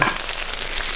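Food frying in a pan, a dense crackling sizzle with irregular pops and spits, close and steady throughout, no speech.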